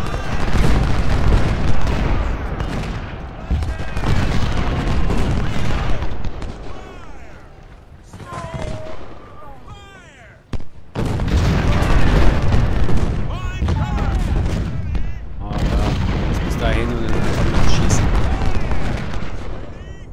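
Cannon and artillery fire booms repeatedly across a Civil War battlefield in Ultimate General: Civil War at Malvern Hill, heavy blasts and rumbling salvos layered over a continuous battle din, with someone talking over parts of it.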